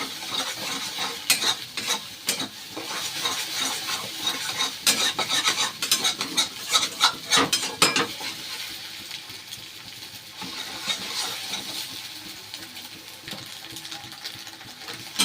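Four eggs scrambled in hot oil for egg bhurji, sizzling steadily while a spatula scrapes and clatters against the pan in quick bursts, close up, easing into a quieter sizzle later on.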